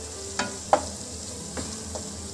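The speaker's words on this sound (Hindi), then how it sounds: "इसे अच्छे से मिक्स कर लेंगे।" An onion-tomato sabzi with green chilli is stirred in a pan over a soft steady sizzle, with a few faint spoon scrapes and taps and no talking.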